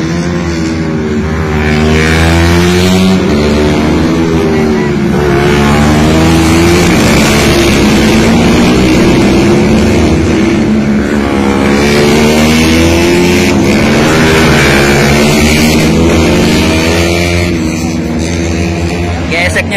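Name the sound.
Suzuki GSX 150 R motorcycle racing at Sentul circuit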